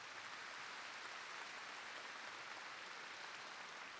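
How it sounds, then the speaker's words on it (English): Steady, faint applause fills a graduation ceremony hall as the audience claps for the high school graduates, a continuous wash of hands from a distant crowd with no voices on top. "let's give those graduates a round of applause for their resiliency"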